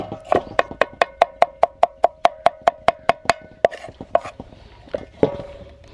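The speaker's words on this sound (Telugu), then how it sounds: "ఇలా నైస్గా కట్ చేసుకోవాలండి." A knife chopping vegetables finely on a board in a village outdoor kitchen, a fast even run of about fifteen sharp close taps, then a few slower scattered cuts.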